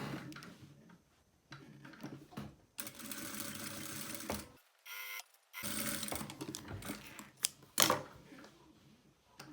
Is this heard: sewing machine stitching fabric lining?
yes